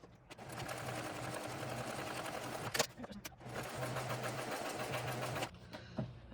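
Sewing machine top stitching a backpack pocket runs in steady, loud stretches, broken by a brief pause near the middle and stopping near the end, with a faint voice in the background.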